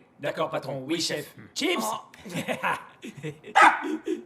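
A dog barks in short bursts near the end, heard beneath French dialogue between men in a Christmas film scene.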